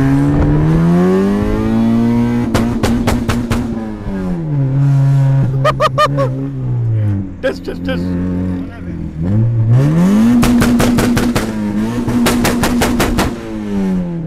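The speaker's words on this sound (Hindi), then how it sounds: "हम गाड़ी कहीं खड़ी करके पटाखे सुना नहीं सकते और बहुत लाउड है ये, इसलिए चलते चलते ही आपको सुनाना पड़ रहा है" A fully modified 1999 Honda Civic revs up and down while driving, its exhaust firing rapid, loud crackling pops in several bursts between rising and falling engine notes; a voice briefly speaks over it.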